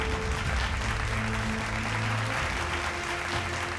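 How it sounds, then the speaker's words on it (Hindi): Sustained audience applause welcoming the chief guest onto the stage at a women's conclave in Bhopal, Madhya Pradesh, a dense, steady clapping of a large crowd holding at full level throughout, with a faint hum beneath. "तालियां बजाकर स्वागत कीजिए"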